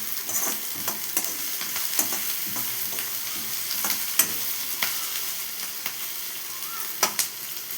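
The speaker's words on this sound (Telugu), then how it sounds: "ఉల్లిపాయలు కాస్త వేగుతున్నప్పుడు" Onions with cumin frying in a pan for chicken fry, steady bright sizzling with frequent spoon scrapes and taps as they are stirred, close and fairly loud.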